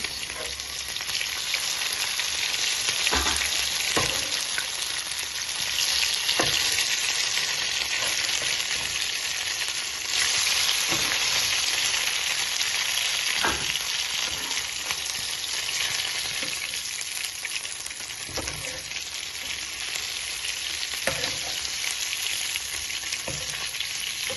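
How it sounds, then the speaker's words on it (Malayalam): Oil sizzles loudly and continuously as chicken pieces fry, with occasional clicks and scrapes from stirring. "ചെറിയ ചെറിയ കഷ്ണങ്ങളാക്കി വറുത്തെടുക്കണം"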